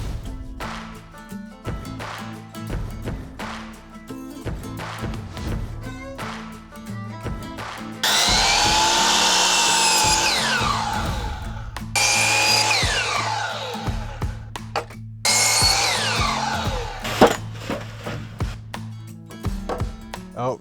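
A power saw shaves half an inch off wooden fence pickets in three loud, rasping passes, each cut separated by a pause, over a steady motor hum and light tool clatter.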